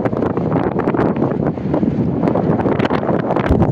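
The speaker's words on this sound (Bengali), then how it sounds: "এই জায়গাতে দাঁড়িয়ে আছি, এত হাওয়া হচ্ছে" Strong wind blowing at Jharkhali in the Sundarbans, a loud, continuous buffeting roar battering the microphone with gusty swells, no voices.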